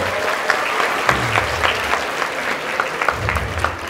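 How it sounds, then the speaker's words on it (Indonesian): An audience at a university event applauds Dr. Lukman Hakim Hasan, a lecturer, with steady clapping from a room full of people, and distinct sharp claps stand out in the texture. "beri tepuk tangan Pak Lukman"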